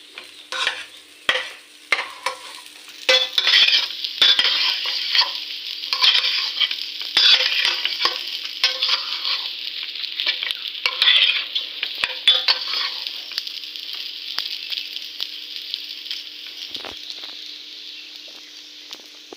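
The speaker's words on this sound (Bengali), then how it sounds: "পেঁয়াজ দু মিনিট ভাজি ভাজি করে একটু নাড়াচাড়া দিয়ে" Onions fry in a pan while a spoon stirs them, a steady close sizzle running throughout with irregular scraping and tapping of the utensil, busier at the start.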